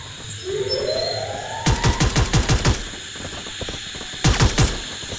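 Rapid automatic gunfire in the Free Fire Max video game: one burst of about seven sharp shots, then a shorter burst of four a moment later, loud and close with no talking.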